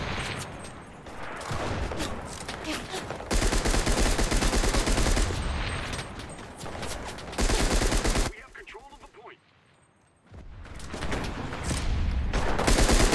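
MG42 machine gun fire in the WWII shooter Enlisted: long, rapid ripping bursts break off into short gaps, with a brief near-silent pause before firing resumes, loud and close amid battle noise.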